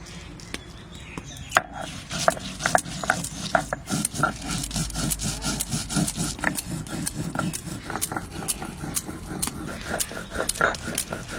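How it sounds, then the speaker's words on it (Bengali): Garlic cloves, ginger, green chillies and dried chillies are ground together into a paste for a Bengali village cabbage dish, with steady rhythmic rubbing and scraping strokes repeating close up. "বাঁধাকপির জন্য 2 কোয়া রসুন, একটু আদা, কাঁচা লঙ্কা, শুকনো লঙ্কা একসঙ্গে বেটে নিচ্ছি"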